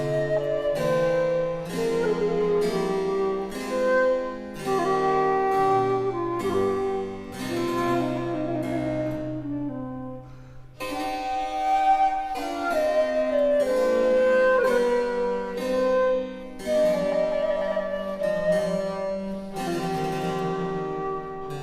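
A French baroque air tendre, with ornamented melodic lines, graceful trills and turns over a sustained bass, steady and moderately loud throughout, with a brief pause midway.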